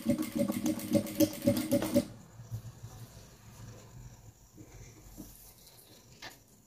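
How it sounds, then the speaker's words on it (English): A sewing machine runs a rapid, steady stitching burst for about two seconds while sewing boning along the edge of a bustier, then stops abruptly and leaves a quiet room. "You can see where I'm sewing on this edge."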